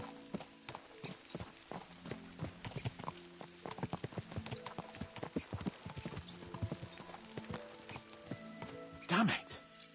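Horses ridden along a road in Kingdom Come: Deliverance II give a quick, steady clip-clop of hooves throughout, with a short neigh near the end and faint talk underneath.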